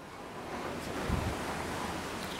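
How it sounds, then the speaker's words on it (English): Strong wind roars in a steady broadband rush, with gusts buffeting the microphone and a low rumble swelling midway. "she's getting windy out there"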